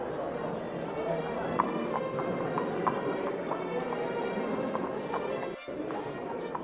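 Horse hooves clip-clop at a steady rhythm on a busy street, mixed into a dense crowd-and-traffic ambience with a speaking voice over it throughout.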